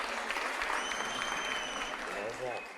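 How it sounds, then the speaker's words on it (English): Audience applause at the 2022 Annual Women's Rights Convention greets a chief guest, the cabinet secretary for water, sanitation and irrigation: dense, steady clapping from a large crowd, loud and continuous for about three seconds, with some voices mixed in. "Makofi yake,"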